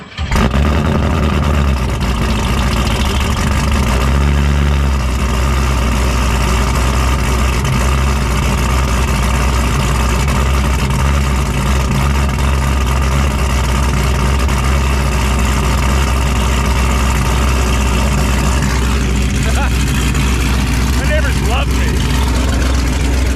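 A car engine running on its stock ECU drones loud and steady, idling and revving with a heavy continuous rumble that dominates throughout.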